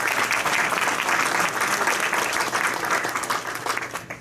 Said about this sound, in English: So I'd like to give both of them a round of applause.